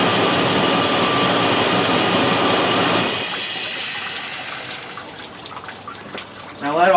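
Coolant water gushing and splashing out of a 1999–2004 Jeep Grand Cherokee radiator during a flush, a loud steady rush for three seconds that then thins to a softer trickle.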